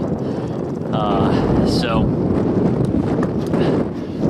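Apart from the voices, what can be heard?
strong wind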